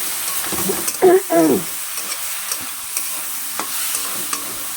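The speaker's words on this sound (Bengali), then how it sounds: "এভাবে করে ভেজে নিতে হবে" Shrimp frying in a pan while being stirred, a steady hiss of sizzling with a few clattering stir strokes near the start, close and moderately loud.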